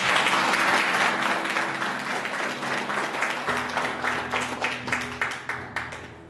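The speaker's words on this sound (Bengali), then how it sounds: "যিশুর জন্য একটু করতালি দিয়ে" A church congregation applauding during a Bengali sermon, dense clapping from many hands that starts loud and gradually thins and fades into scattered claps, with faint voices and a low tonal hum underneath.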